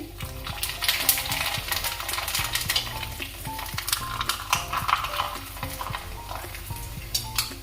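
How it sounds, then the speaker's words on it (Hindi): Sabudana papad frying in hot oil in a pan, a steady close sizzle with crackling bursts and occasional light scrapes of a utensil, continuous with no talk. "तो इसी तरह हम सारे पापड़ एक एक करके सेक लेंगे, अच्छे से फ्राई करेंगे।"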